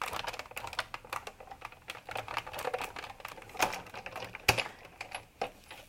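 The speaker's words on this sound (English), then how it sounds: "I'm going to roll this right through my Big Shot machine." Sizzix Big Shot die-cutting machine cranked by hand as a die and cutting pads roll through, giving a fast, irregular run of close, light clicks and ratchets.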